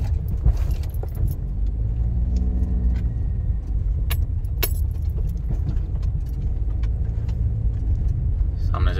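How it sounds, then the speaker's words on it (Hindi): Car on a rural road beside the Soan River, approaching head-on and passing with a steady engine rumble, loud and close, with a faint jingling of keys and no clear speech. "सामने से गाड़ी आ रही है, वो हमें रास्ता दे रही है।"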